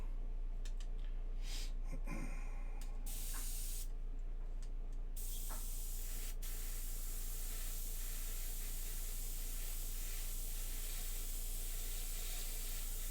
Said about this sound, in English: all we're doing basically is spraying straight down, catching the high points